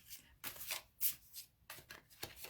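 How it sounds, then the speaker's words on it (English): Tarot cards are shuffled by hand close to the listener, giving a quiet series of five or six soft riffling bursts with short pauses between them. "I'm going to give another shuffle"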